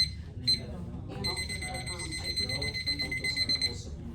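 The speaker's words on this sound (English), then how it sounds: "So with our timer, we're gonna wanna set it at 5 minutes" Repeated high electronic beeps from a kitchen-style timer being set to five minutes for a moist hot pack treatment, a steady run of tones close by, with people talking over them.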